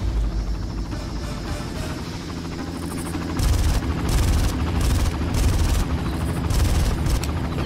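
In the video game Far Cry, a helicopter's rotor chop rises over heavy game action, with booms and bursts of gunfire growing louder and denser.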